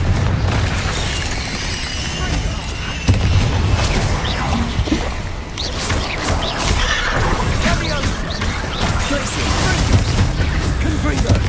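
Confringo fire spell explosions in the Hogwarts Legacy video game, a dense, loud run of booming blasts and crashes packed through a chaotic fight, with voices over the din.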